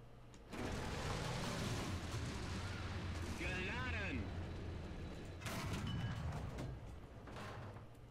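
Tank cannon fire in War Thunder tank battles with a Tiger E: a sudden loud blast kicks in, followed by another heavy boom and rumble later, with a voice talking between shots.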